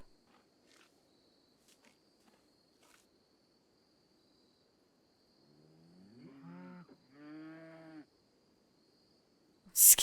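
A newborn calf in the farming game RimWorld gives a soft, stretched moo in two short calls about midway, alone over a quiet background with faint ticks before and a brief loud blip at the very end.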